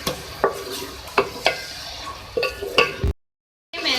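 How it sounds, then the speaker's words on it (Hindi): Ginger-garlic paste frying in a pan for beef green keema, with sharp, regular spatula scrapes over a steady close sizzle, cut off by a short silence before the frying resumes. "अब इसमें अदरक लहसुन का पेस्ट ऐड करेंगे, 2 खाने के चमचे। इसको फ्राई करेंगे इसके साथ।"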